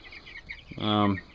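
A meat chicken gives a short, close cluck, then a louder drawn-out squawk, with faint farmyard noise in the background.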